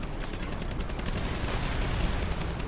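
Scatter shot weapon fire in Command & Conquer: Red Alert 3 crackles as a dense, rapid barrage of overlapping shots, loud and continuous over a low rumble, with no voices.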